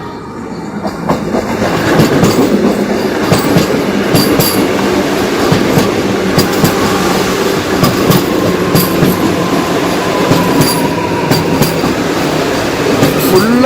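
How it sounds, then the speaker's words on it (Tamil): A Vande Bharat Express train rolls past Tumkur railway station, a loud steady rumble with clickety-clack wheel beats and faint squeals that last throughout, heard up close. "20662 வந்தே பாரத் எக்ஸ்பிரஸ் வந்துட்டு இருக்குங்க தும்கூர் ரயில்வே ஸ்டேஷனுக்கு."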